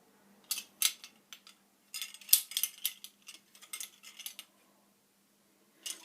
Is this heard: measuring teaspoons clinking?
yes